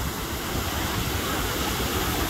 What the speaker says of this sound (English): Alright, here are the waves. Good sized waves today. Right underneath this pier.